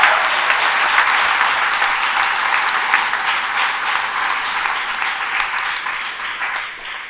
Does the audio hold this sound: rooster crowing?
no